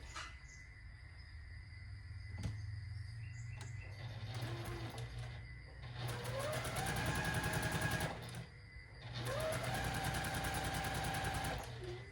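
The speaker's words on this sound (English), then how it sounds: "we're going to sew corner to corner from this direction" A sewing machine stitches a quilt block corner to corner, running in two long loud bursts with a brief pause between, its rapid needle clatter steady and close.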